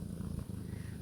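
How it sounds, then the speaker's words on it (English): Cat purring right up against the microphone, a continuous rumbling throb that stays steady and close with no talking. "Can you hear her purrs? She's close to the microphone."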